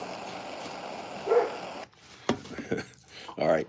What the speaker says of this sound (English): The neighbors put out the dogs.